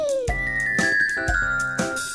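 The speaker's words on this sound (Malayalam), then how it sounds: "ക്ലക്കിൽ മണി നാല്" In a cartoon nursery rhyme, a clock chimes four, ringing out four bright, evenly spaced bell strikes that hang over a sustained musical tone.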